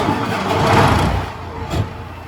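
A rough, rumbling tractor engine running close by at a barn, swelling slightly and then settling, steady and fairly loud with no talking.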